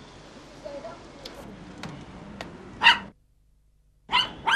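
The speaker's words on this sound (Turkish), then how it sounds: "Köpeğin sesi de mi çıkacak?" A dog barks in an apartment during a family photo session, a few sharp, fairly close times, with a brief yelp near the middle and two quick barks toward the end, over a faint room murmur and scattered small clicks.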